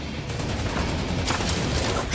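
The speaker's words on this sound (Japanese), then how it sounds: "銃声が聞こえた。" Gunfire rattles in rapid bursts in the mech battle game Super Mecha Champions, a dense volley that swells around the midpoint with no talking.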